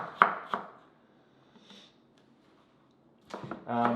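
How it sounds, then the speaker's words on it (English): A knife rough-chops a red onion on a board, giving two sharp thuds, a pause, then a quick run of close chops at the end. "We're rough cutting up some red onion."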